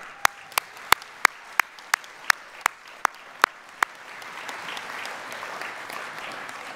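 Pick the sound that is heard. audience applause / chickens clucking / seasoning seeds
audience applause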